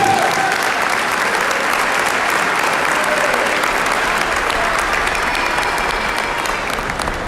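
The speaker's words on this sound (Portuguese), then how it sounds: "Pode aplaudir Jesus." Applause from a church congregation, a dense, loud, continuous wash of clapping that holds steady throughout with no voices standing out above it.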